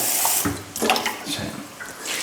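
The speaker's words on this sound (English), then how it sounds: "I'm going to put a little bit of water in there." Water splashes and gurgles as it is poured into a pot of sausage casserole, a steady close pour with a few louder surges.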